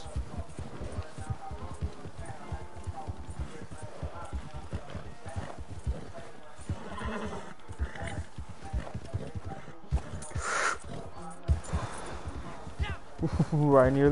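Steady hoofbeats of a horse in Red Dead Redemption 2 clatter along at a brisk trot, up close and continuous, with a short snort or whinny late on and a player talking throughout.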